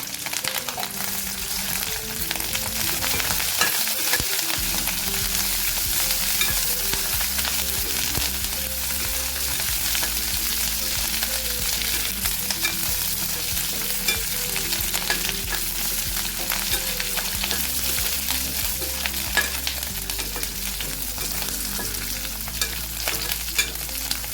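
Fenugreek seeds frying in hot oil for Andhra-style gongura chutney, a steady close sizzle and crackle running throughout with occasional stirring, no talking.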